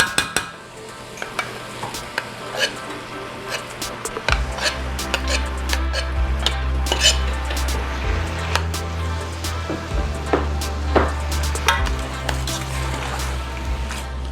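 Beans go into a pan with browned fond on the bottom and are stirred, bringing scattered scraping and utensil clicks over a continuous sizzle and a low steady hum.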